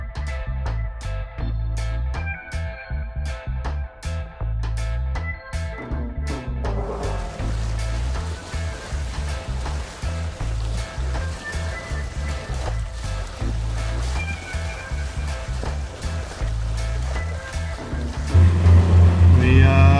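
Boat motoring along toward Dauphin Island through mellow waves in light traffic, a steady engine drone with water wash running throughout, loud and close, with talk over it.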